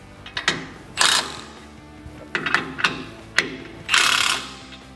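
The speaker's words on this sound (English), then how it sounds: "the last thing that we're going to do here is go ahead and tighten the bottom strut mount bolts" A hand ratchet tightens the bottom strut mount bolts on a Ford Ranger during a level kit install, clicking loudly in several separate bursts with short pauses between strokes, close and without talk.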